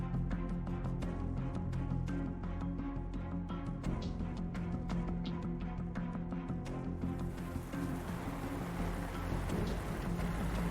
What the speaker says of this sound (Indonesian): Ya Allah, hujan.